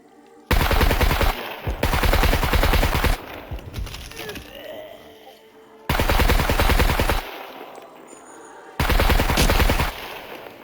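Automatic gunfire in the survival game SCUM, in loud sustained bursts of about one to two seconds separated by short quieter gaps, with faint background noise between volleys.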